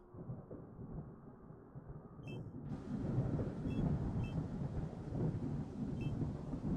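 A thunderstorm rumbles in the Star Trek: Outposts Unknown game, with a deep rolling thunder bed that swells midway under steady rain-like hiss, joined by a few small interface blips, with no voices.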